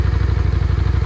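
A Yamaha Virago 535 motorcycle engine runs loud and close with a steady, throbbing pulse, a continuous low rumble with no voices.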